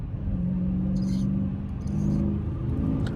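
A car engine hums steadily inside the cabin as the driver downshifts with paddle shifters, with low rumbling tones that dip and rise at each gear change over about three seconds.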